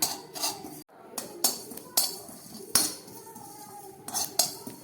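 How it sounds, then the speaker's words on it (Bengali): Panch phoron spices fry in a wok while a metal spatula clinks and taps sharply against it at irregular intervals, with a quiet sizzle underneath. "হালকা করে একটু এই পাঁচফোড়নটাকে একটু ভেজে নিচ্ছি"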